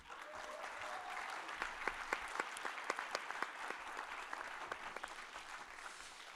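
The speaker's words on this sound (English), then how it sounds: "So a big round of applause." Audience applause for senior instructors at a council general assembly. A large crowd claps steadily in a hall, sustained and even, at a moderate distance throughout.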